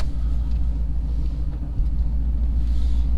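An LS-swapped OBS truck engine idles steadily in cold weather, a loud, continuous low rumble close by with no talk over it.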